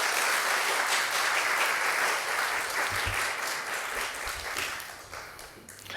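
A church congregation bursts into sustained applause as a missionary comes forward to preach, a thick wash of clapping that slowly tapers off, heard on its own.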